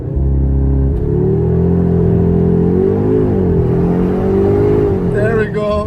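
Loud, close engine of a 2022 Audi S3 Sportback held at high revs against the brakes, then surging through a hard launch-control acceleration with the note climbing, a brief gear-change dip and crackle near the end.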